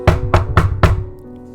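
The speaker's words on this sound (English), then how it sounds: "You knocked again." Four sharp knocks on a door, evenly spaced and close, then a quiet pause.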